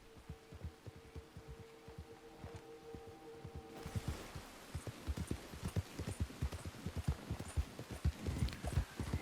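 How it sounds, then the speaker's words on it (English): Horse hooves clip-clop over rocky ground in the video game Red Dead Online, a steady close rhythm of hard hoofbeats that starts after a few seconds of low humming ambience and continues without talk. "Horses on the rocks."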